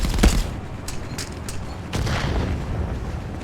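A grenade blast in ContractorsVR, the virtual-reality shooter, lands as a sharp loud boom early on, followed by scattered crackling shots and distant bursts of gunfire.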